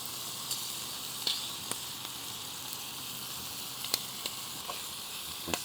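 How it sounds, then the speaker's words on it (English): Shrimp and pineapple simmer in sweet and spicy barbecue sauce over a campsite stove, giving a soft, steady sizzle with faint crackles and a few brief clicks throughout. "I want to let this just simmer a minute and heat through real good."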